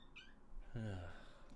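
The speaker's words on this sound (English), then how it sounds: "Silly cat." A house cat gives a short meow indoors, a rising, tonal cry that stands out clearly for under a second against quiet room background.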